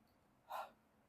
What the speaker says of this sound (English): Now the last phase is huffing.